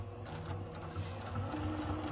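A sewing machine runs steadily, stitching through a printed vinyl cover for a mini notebook, with a continuous close mechanical whir and a fast rhythmic ticking of the needle throughout, and no voices.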